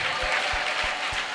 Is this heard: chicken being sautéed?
no